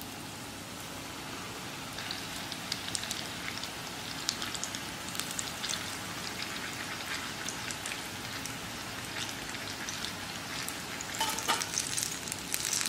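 Sweet maida flour bondas frying in hot oil: a steady, dense, rain-like crackle and fizz, close and even, briefly swelling louder toward the end, with no voices.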